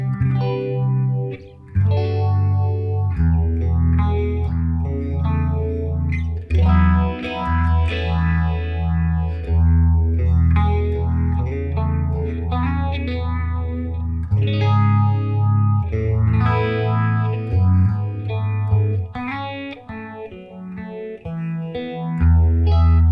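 Electric guitar played through a phaser in a Lunar Eclipse tone preset built for Line 6 Helix, chords ringing with a sweeping, swirling modulation, loud and sustained throughout with no talking.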